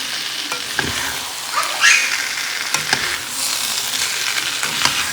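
Spices sizzle and fry in a pan with fried potato and soybean chunks, a steady close crackle broken by stirring scrapes and clinks throughout.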